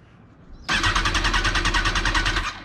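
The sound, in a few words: 2005 Kawasaki ZX10R motorcycle cranking without starting, no fuel pump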